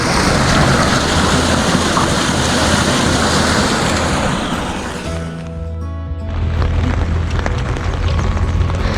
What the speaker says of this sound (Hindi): और ये नाले का पानी सीधा गोदावरी में जा रहा है।